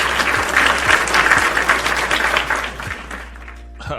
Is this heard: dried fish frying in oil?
no